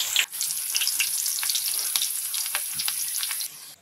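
Mutton potato sticks frying in a pan of oil, a dense steady sizzle with crackling pops, close and fairly loud, fading out at the end, no talking.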